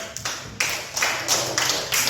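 A small group in a classroom workshop claps hands in several distinct bursts, fairly soft and a little uneven, with short gaps between them.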